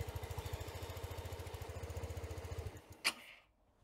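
A fuel-injected Sym Jet 14 scooter with an electronics fault runs with the throttle slightly open, a steady rapid pulsing engine putter that cuts out near the end, followed by a single sharp click and quiet.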